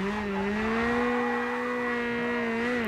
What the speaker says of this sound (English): And again, into this donut, trying to keep it smooth and tidy.